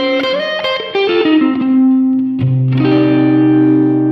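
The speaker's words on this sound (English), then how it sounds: "here's that with spring" Electric guitar through a Strymon pedalboard with spring reverb: a falling run of picked notes settles into a sustained chord, then a second strummed chord rings out with a washy reverb tail, loud and close, with no voices.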